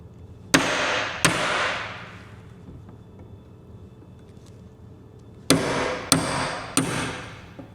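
A hammer drives a punch to knock out rusty rivet mandrels, with five sharp metallic strikes: two close together early, then a pause of quiet, then three more in quick succession, each ringing briefly before fading.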